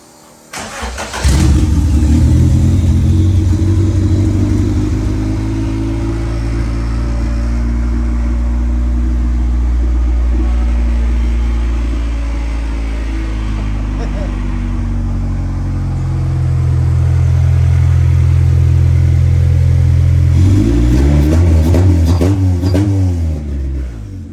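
A Honda CRX drag-project engine running on a stock P06 computer with a new MAP sensor, close and loud, holding a steady rough rev above idle, rising and falling slightly before climbing again near the end.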